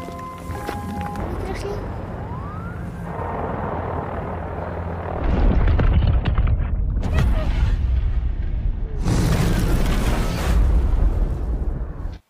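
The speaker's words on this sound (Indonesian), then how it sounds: "Terjadi sebuah ledakan yang berasal dari kapal tanker bermuatan minyak." A deep, rumbling explosion of an oil tanker ship erupts midway and roars on with a loud, sustained low boom, followed by a second surge of crashing noise, with voices earlier.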